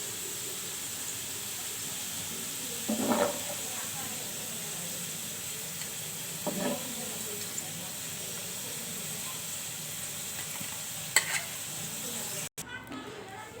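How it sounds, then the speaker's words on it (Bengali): Potatoes and tilapia fish fry in oil, a steady, even hiss filling the whole stretch, broken by a few brief clinks and scrapes near the pan. "হয়ে গেল আলু তেলে ভাজা এবং মাছ তেলে ভাজা।"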